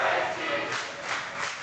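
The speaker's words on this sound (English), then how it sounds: "I believe this is the first time we have heard this chant in Premier Arena, Dan." A wrestling arena crowd at a live show chants for brother Tracy, a loud massed roar of voices that swells and falls in rhythmic waves.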